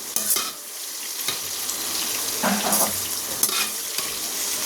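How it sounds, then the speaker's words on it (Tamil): Brinjal sautéing in oil for a spicy oil brinjal gravy, a continuous close sizzle broken by scraping stirs and occasional soft clicks of the spoon against the pan. "இந்த ஸ்டேஜில் இருக்கிற இன்னும் நல்லா சுருள நம்ம வதக்கி எடுத்துக்கணும்"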